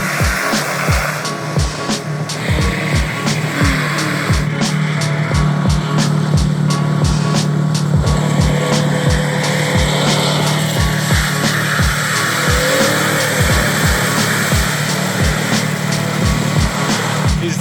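A Can-Am off-road vehicle drives through mud in the flooded Vegas desert, its engine a loud, continuous close roar with a rapid series of regular low thumps and splashy noise throughout.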